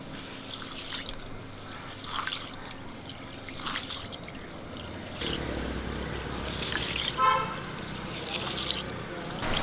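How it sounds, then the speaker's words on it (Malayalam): Water is poured over green gram and rice in a bowl to wash them. A steady close trickle and splash continues throughout, swelling a little toward the end, with faint voices in the background. "ഇതിലൊക്കെ വെള്ളം ഒഴിച്ച് നമുക്കൊന്ന് കഴുകിയെടുക്കാം"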